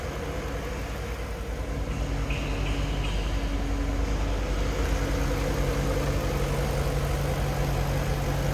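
A 1997 Jaguar XK8 Convertible engine idles smoothly and steadily, a continuous low hum with no voices.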